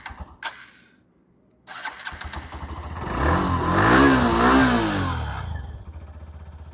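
A Hero Glamour X 125 motorcycle with a silent cam chain is started nearby: a brief crank and catch, then the engine fires, revs up loudly and settles back to a steady idle.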